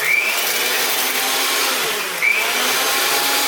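An electric hand mixer mashes bananas with sugar for muffin batter, a loud steady whir running on low throughout with brief scraping tones near the start and middle.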